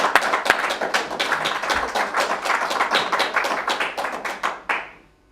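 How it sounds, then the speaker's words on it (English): Audience clapping during a history talk, a small group's sharp, distinct handclaps in an uneven rhythm, fairly close and loud, dying away abruptly near the end. "Give her a clap."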